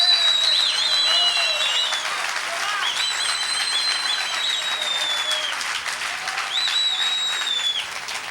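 A church congregation claps steadily in sustained applause, with high whistling or shouted tones rising above the dense clapping at several points.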